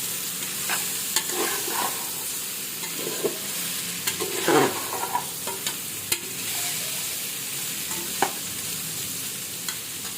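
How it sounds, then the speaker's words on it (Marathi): Beetroot stirred and sautéed in a pan for beetroot bhaji, with a steady low sizzle under repeated scraping clicks of a spoon against the pan, close and fairly quiet, no talking. "आता हे बीट हलवून घ्यायचं, मिक्स करून घ्यायचं. हे सुद्धा 2 मिनिटं परतायचं."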